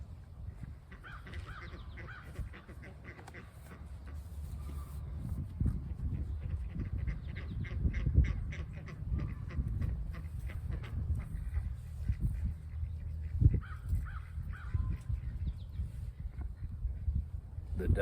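Hungry ducks quacking on a farm on a cool, breezy day, a busy chorus of repeated nasal calls at moderate distance over wind and low rumble.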